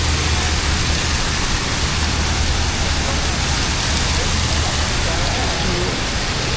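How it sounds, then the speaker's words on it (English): Artificial rain falling indoors inside a shopping mall's rainforest garden, a constant dense hiss of water spray with no breaks, loud and steady throughout. "They created the rain inside the mall."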